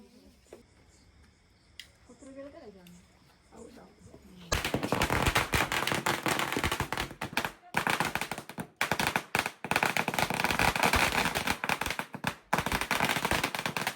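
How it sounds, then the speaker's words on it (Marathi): Firecrackers burst in a dense, loud rapid string after a few seconds of quiet voices, crackling continuously with brief pauses. "दादांचे फटाके बघायला बघू आता कसे वाजणार आहेत"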